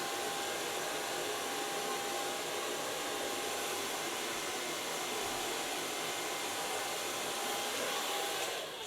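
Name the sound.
hair dryer blow drying bleached blonde hair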